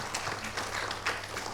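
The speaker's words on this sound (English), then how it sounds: "I want to give a big round of applause to Sharda" An audience gives a round of applause for Sharda at a panel event, soft scattered clapping heard at a distance and fairly quiet.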